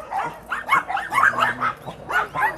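Several dogs at a rescue shelter for abandoned dogs in Haenam bark, yip and whimper close by in a busy overlapping chorus, with no talking.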